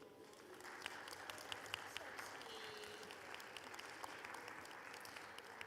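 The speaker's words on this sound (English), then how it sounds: "I would like for you to give yourselves a big applause," Audience applause at an international labour festival dialogue session, a steady, dense wash of clapping from a large crowd lasting throughout, moderately distant with occasional sharper individual claps.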